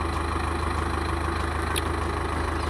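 A tractor's engine idles nearby at a steady, even rumble, with a regular low throb running through it and no change in speed or load.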